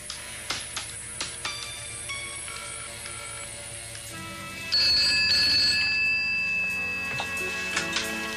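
A telephone rings in repeated bursts of bright bell tones with ticking clicks between them, growing louder partway through, with no talk over it.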